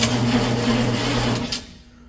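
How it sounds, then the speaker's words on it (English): A Humvee M1097R1 heavy-spec engine cranks over with a steady, close mechanical drone and tonal whine, running evenly for about a second and a half before cutting off and fading. "the motor cranks over"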